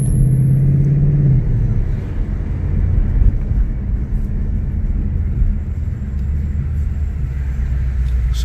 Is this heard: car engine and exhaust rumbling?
yes